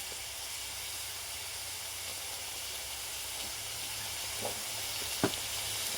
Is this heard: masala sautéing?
yes